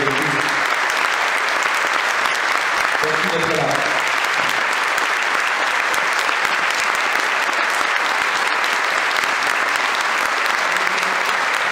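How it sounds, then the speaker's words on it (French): Sustained, dense applause from an audience at a memorial ceremony in Brussels for victims of the Paris attacks, steady and loud throughout with a few voices underneath. "je voudrais qu'on applaudisse tous ensemble ce soir"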